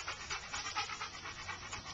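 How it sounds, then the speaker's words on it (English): A dog pants in quick, rhythmic breaths close to the microphone, fairly faint and with no talking over it. "This is my dog."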